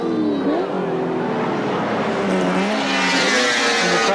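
Race cars, including a Commodore and a BMW, run at the 1981 Surfers Paradise race, with loud, sustained engine drones rising and falling in pitch as they accelerate past, all under an excited commentator's voice.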